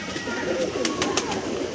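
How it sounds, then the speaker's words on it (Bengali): Andhra Star Kalanka pigeons for sale coo nearby in soft, rolling calls that repeat over a steady background. "দেখো পায়রা দুটো কোয়ালিটি দেখো"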